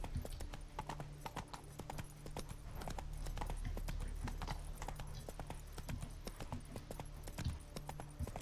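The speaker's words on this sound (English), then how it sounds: "Run, Roach" Horse hooves galloping in The Witcher 3, a quick, steady clip-clop rhythm of repeated sharp thuds running through the whole stretch at moderate volume, with no talking.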